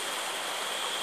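The Apulco river near Tlatlauquitepec flows in a steady, even rush of water, loud and continuous with no voices.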